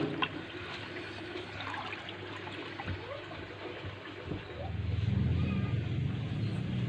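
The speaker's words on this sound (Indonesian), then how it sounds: "Aduk kembali ya" Liquid organic fertilizer made from rice-washing water and banana peels, diluted with clean water, swishes and trickles as it is stirred, with a fuller, louder churning of liquid toward the end.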